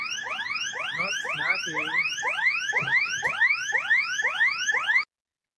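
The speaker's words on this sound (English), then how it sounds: "this bot actually had an alarm ringing away" A rapidly sweeping electronic alarm rises over and over in quick repeating whoops, loud and continuous, then cuts off abruptly; a voice speaks briefly underneath.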